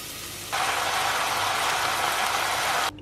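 Raw chicken pieces dropped into a hot pan with softening onion and garlic set off a sudden loud, steady sizzle that holds for a couple of seconds and then cuts off.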